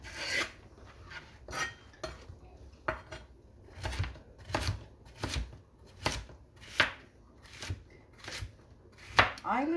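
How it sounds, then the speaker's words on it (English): Vegetables for a stir fry are chopped on a board with a knife, about a dozen crisp, rhythmic cuts landing in uneven bursts, close and clear, with no voices. "let me chop all this up really quick"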